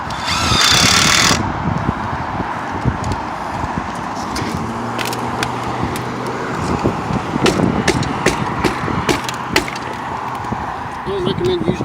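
A screw gun is struck like a hammer against a metal roof, giving sharp, irregular metallic taps and knocks scattered across the clip, with a brief motor whir and background noise.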